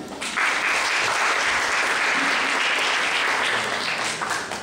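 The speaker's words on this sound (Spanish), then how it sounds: "a la que les pido un fuerte aplauso" Steady audience applause at a lecture on public policy in Peru, dense and sustained for several seconds without voices.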